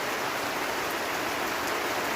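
Steady rain falls over a village, a dense, even hiss of drops on surfaces that holds at a constant close level throughout with no talking.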